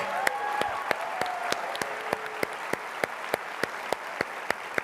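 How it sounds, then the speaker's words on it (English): Round of applause from an audience thanking a working group, heard as a steady wash of clapping with a sharp, regular clap standing out in an even rhythm about twice a second, a faint tone briefly audible early on. "I'd like us to give this great group of people a round of applause for their hard work"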